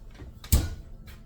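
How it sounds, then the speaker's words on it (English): Oven door on a home kitchen oven swinging open and shut as a cake goes in, one short solid clunk mid-clip against quiet room tone. "Now we'll put it in the oven."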